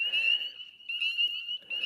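Frogs calling from close by near the water give a high, steady trilling chorus in three bursts with short pauses between them, and nobody speaks.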